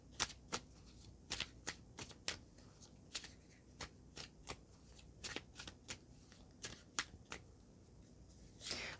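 Tarot cards riffled and shuffled by hand, a run of crisp, sharp flicks and taps at an irregular rhythm, close and fairly quiet, with no one talking.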